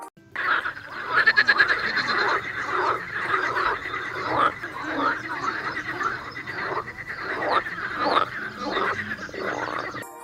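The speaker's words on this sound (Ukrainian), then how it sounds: "Давайте з вами послухаємо, як співають жабки." A chorus of male frogs croaking continuously, dense overlapping calls at a steady rhythm, fairly loud and close, with no talking.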